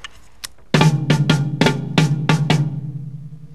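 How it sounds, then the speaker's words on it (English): A short drum phrase of sharp, punchy hits alternating between deeper booming double bass drum strikes and higher tom hits, in a loose call-and-response rhythm, played close and loud. "the sort of melodic call and answer thing that I did between my toms and my bass drums."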